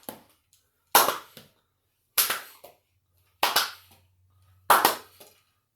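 Single sharp hand claps ring out one at a time, roughly every second and a quarter, each followed by a brief softer tap, as a ball is thrown and caught in an otherwise quiet room.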